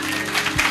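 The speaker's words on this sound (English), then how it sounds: "Let's clap for them first for coming." Audience clapping at a business master class panel, a brief burst of hand claps filling the room.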